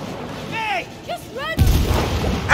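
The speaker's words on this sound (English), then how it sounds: "Those are missiles." Missiles explode in the It Takes Two video game, a few booming blasts following whistling, sweeping tones, loud and close, with a rumbling burst near the end.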